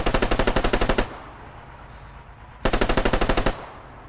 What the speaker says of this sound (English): We got shots.